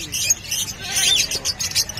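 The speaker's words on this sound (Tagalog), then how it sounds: "Kakaiba. Kakaibang ibon." A bird at a Bocaue pet market calls in repeated high chirps and short tweets over a busy, murmuring market background, fairly close and moderately loud.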